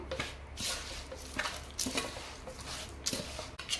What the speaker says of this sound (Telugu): ఇదంతా ఒకసారి అయితే కలుపుకుందాం.